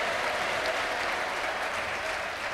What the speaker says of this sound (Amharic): ለጌታ ከፍ ያለ ልልታ ጭብጨባ አስጡ